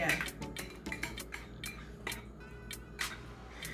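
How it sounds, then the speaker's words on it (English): Spoon and utensils clink against a bowl of leftover pea soup as bones are picked out, a run of light, close taps and scrapes scattered across the moment with faint room hum underneath. "I'm gonna pick the bones out of this bowl"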